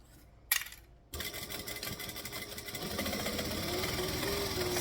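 A sewing machine runs a steady straight seam, ending in a backstitch, while a Celine garment is sewn. A brief click comes first, then the motor starts and hums continuously at close range with a dense mechanical chatter.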